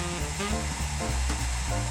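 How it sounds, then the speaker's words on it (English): Blow dryer heating an eyelash curler, a loud steady whooshing roar of blowing air with a constant motor hum, running unbroken close by. "I'm just going to slightly heat up my eyelash curler with this blow dryer"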